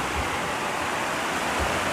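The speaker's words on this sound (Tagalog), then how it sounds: "maingay yung tubig" A hillside waterfall sends water rushing down in a loud, steady, close-up roar of broadband noise that fills the whole moment without a break.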